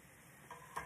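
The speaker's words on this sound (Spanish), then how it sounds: "la salsa ya está hirviendo" Tomato salsa for beef rolls with nopales and cheese bubbles in a pot, a faint soft simmer with a light hiss and a couple of small pops, with no voices.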